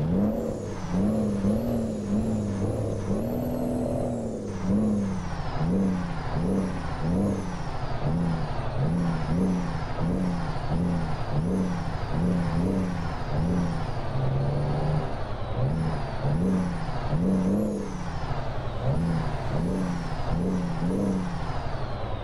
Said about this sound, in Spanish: Vamos a encender la máquina, vamos a calentar el motor porque vamos a arrancar.